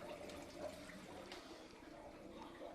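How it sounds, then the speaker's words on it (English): Water rushes and trickles steadily as the tank of a Rena XP3 Filstar aquarium canister filter fills, a soft continuous gurgle kept at low volume. "and you'll see now the tank is"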